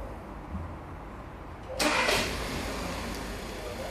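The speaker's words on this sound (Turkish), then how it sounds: "Çalıştırın arabayı." A Volkswagen Passat engine cranks and catches in a short burst, then settles into a steady idle amid background noise, with no talk.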